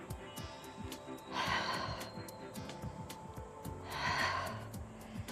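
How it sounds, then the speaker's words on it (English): Two strong, breathy exhales rush out a couple of seconds apart during an exercise class, close to the listener, over quiet rhythmic background music. "Nice deep breathing. I should be able to hear your exhales from all the way over here."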